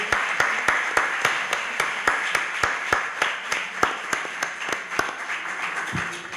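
A small audience applauds after a Spanish diocesan catechist training lecture, with distinct individual claps in a steady rhythm, moderately near, fading slightly near the end.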